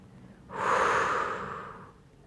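A long, steady breath blown out during a relaxation exercise with the arm released and hands open, a soft airy rush that swells quickly and fades over about a second and a half, close and alone.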